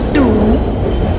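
A video game passenger express train screeches into a station platform with a squealing wheel tone over a low rumbling hum, fairly loud and close.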